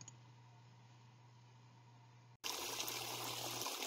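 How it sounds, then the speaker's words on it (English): Water trickling out of a natural spring, a faint steady dribble that cuts off briefly and returns as a louder, brighter gush of flowing water. "You can see water is coming out of this thing and it's flowing this way."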